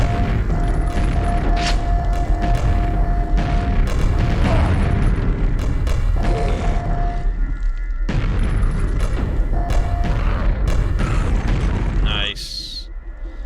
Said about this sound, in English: Yeah, the grenade launcher.